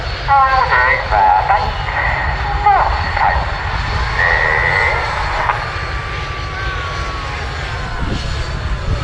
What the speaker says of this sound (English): This is Spitfire.